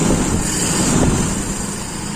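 A small engine with a standard carburetor idles steadily and close up while the carburetor is being adjusted, a continuous low rumble with no talk.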